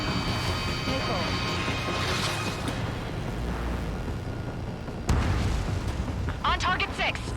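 Jet combat in Ace Combat 7 brings a constant rumbling roar broken by booming missile impacts and explosions. A louder burst hits about two-thirds of the way through, with radio-style voices talking underneath.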